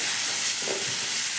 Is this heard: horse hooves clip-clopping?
no